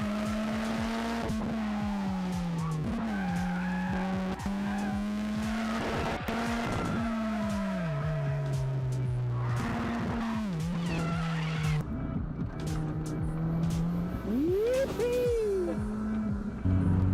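A Mini fitted with new coilovers and tyres is driven hard in a handling test, its engine droning steadily while tyres squeal and skid in long wavering bursts, with revs rising and falling through the corners.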